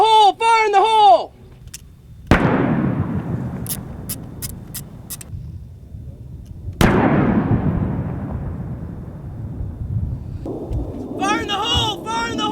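Remotely fired explosive charges detonating at a 2003 Operation Iraqi Freedom air expeditionary site, two loud sharp blasts with long rumbling decays, preceded and followed by voices.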